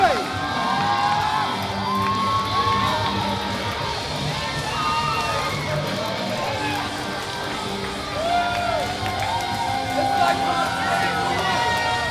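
Wrestling crowd at an IHW event cheering and whooping as a wrestler makes his ring entrance, a sustained loud roar with shouts and whistles throughout, with an announcer talking over it.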